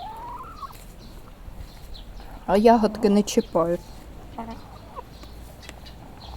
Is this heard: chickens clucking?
yes